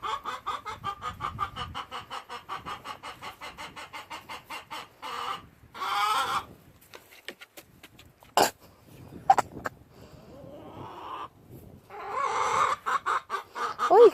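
Chickens clucking and squabbling over pecking order in a backyard flock, with rhythmic close clucks, sharp squawks and brief pauses, then a renewed run of clucking.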